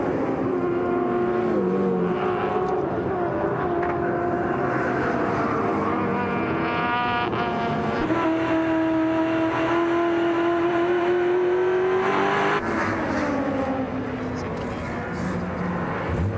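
Touring cars racing at the Lakeside circuit in 1993, engines whining and shifting up through the gears as they pass, with a steady loud roar throughout while a commentator talks over the top.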